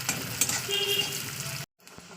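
Onion fries in a pan with a close, steady hissing sizzle and light stirring clinks, running for under two seconds before cutting off abruptly.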